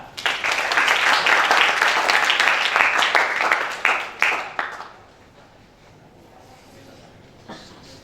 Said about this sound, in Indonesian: Tepuk tangan buat Tata